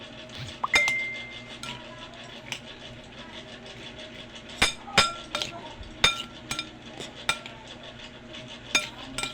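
Kinilaw na ampalaya, bitter gourd with vinegar, stirred in a bowl: repeated bright clinks of a spoon against the dish in irregular bursts, close and fairly loud, getting busier toward the end.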